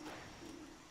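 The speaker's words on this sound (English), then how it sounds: "There's birds." Birds cooing in the Made in Abyss video game, a soft low steady coo heard faintly over a broad hiss of background ambience.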